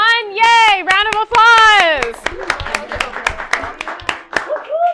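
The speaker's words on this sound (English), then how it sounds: "applause" A round of applause from a small workshop group at a lighting workshop, scattered sharp hand claps mixed with cheerful voices and a drawn-out excited cheer, close and lively.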